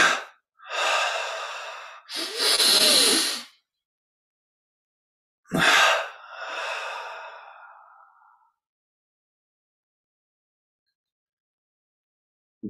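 Deep, controlled nasal breathing during a guided Kriya Yoga meditation: several long inhales and exhales alone in a quiet room, with steady airy rushes separated by silent pauses.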